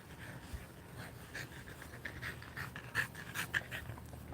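A dog pants close by in quick, rhythmic breathy puffs, soft and steady, with a few slightly sharper exhalations toward the end.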